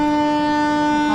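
A train horn sounds at Chandlodiya railway station as the train departs, a single loud sustained tonal blast with strong harmonics that holds steady for the whole moment.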